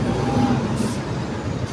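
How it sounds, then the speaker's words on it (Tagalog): A big truck passes in slow highway traffic in Quezon Province, a broad steady engine rumble close by with a brief hiss of air brakes partway through. "Yan o, lalaki ng truck."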